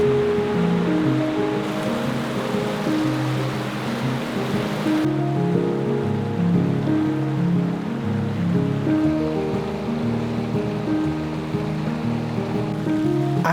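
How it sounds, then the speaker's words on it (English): Water rushing along a small stream on a wooded Colorado path in autumn, a steady broadband wash close by with no break, any leaf rustle blended into the continuous flow. "The sound of water rushing by combined with the leaves rustling in the wind is incredibly calming"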